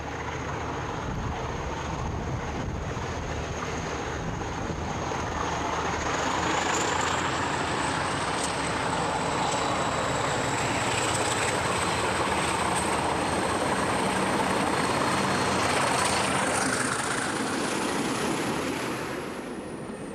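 A Portuguese CP Class 1800 diesel locomotive engine with a direct-drive radiator fan drones steadily with a high whine riding above it, swelling louder midway and then easing off, heard from nearby.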